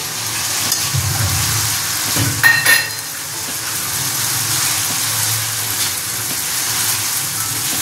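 Fried prawns go into a sizzling spice mix of cumin, ginger, tomato paste and chilli, giving a steady close sizzle with a brief burst of clattering and stirring early on, then a constant hiss.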